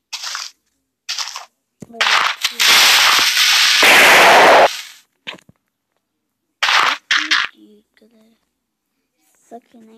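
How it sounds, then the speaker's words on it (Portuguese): A small explosion in the Minecraft video game makes a sharp burst that swells into a roughly three-second roaring blast in the middle. Someone talks in short bursts before and after it. "Explosão pequena"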